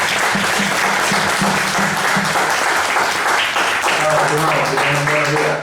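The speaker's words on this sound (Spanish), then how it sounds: "le damos un aplauso por favor" Applause from the audience at the close of a session on climate-smart agriculture, sustained crowd clapping heard close and loud throughout, with voices and a brief tonal sound mixed in beneath it.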